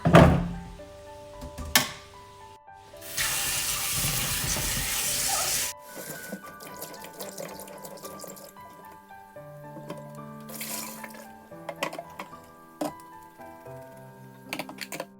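Cut potato sticks washed under a running kitchen tap: a few seconds of steady gushing water, followed by quieter clunks, taps and clatter of handling the potatoes and bowl.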